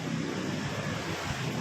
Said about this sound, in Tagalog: Oh, tinangay na siya ng alon guys.